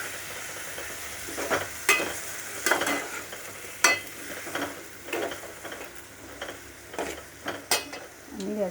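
Cubed potatoes and washed, cut eggplant fry in oil while a spoon stirs them through the pan, giving a steady sizzle broken by about ten sharp scrapes and clinks of the utensil against the metal, nearby and fairly quiet.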